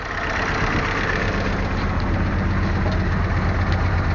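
A 1951 Willys CJ3A jeep engine runs just after a cylinder head install, idling loud and close with a steady low rumble and an even mechanical clatter throughout.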